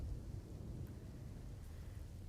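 Heavy rain falling in Kutch, a faint steady wash of rainfall with low rumbling underneath, continuous and distant, with no voices.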